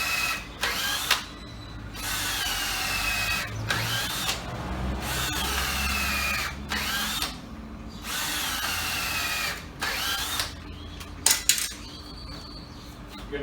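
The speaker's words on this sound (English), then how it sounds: "So we're going to go ahead and pre-drill 4 holes right here." Power drill pre-drilling four holes in wood pieces while building a hand-washing sink, in several whirring bursts separated by short pauses, close and loud, with a few small clinks near the end.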